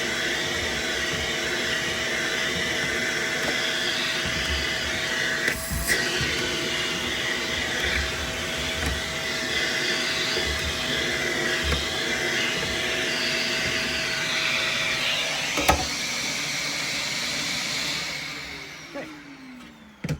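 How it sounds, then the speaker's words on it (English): A vacuum cleaner sucking dust out of a Samsung clothes dryer roars steadily for a long stretch, with a few bumps and knocks as it sucks, then winds down at the end. "use the vacuum cleaner, right, to clean a lot of it out"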